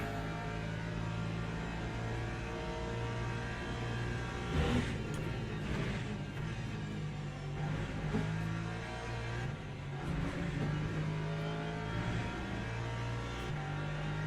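A bunch of LMP2 prototype race cars roar past at Paul Ricard in Le Mans Ultimate, with engines droning and revving, swelling with each pass over a continuous car hum.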